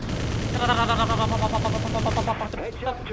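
Rapid bursts of gunfire from the video game Prototype 2 rattle on continuously under dense game noise, loud and near, then thin out toward the end.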